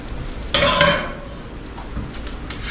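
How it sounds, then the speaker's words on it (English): Asparagus sautéing on a small flat iron, a short burst of sizzling and frying with a light scraping stir, then a quieter low hiss with faint clinks. "we've got us some good old asparagus sauteed right here on this little flat iron"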